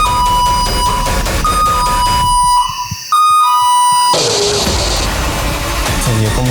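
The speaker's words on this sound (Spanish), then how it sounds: "Hay que la alarma suene en el cuarto." Alarm ringing inside a room of a reputedly haunted house, a steady electronic tone sounding loudly with a brief dropout partway through, followed by a noisier jumble.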